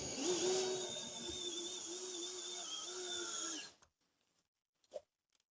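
A power drill runs steadily while driving screws into camper trailer paneling, a loud continuous whine for about three and a half seconds that cuts off abruptly, followed by a brief faint clunk.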